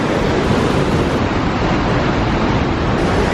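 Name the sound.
waterfall rushing water, cascades near a wooden bridge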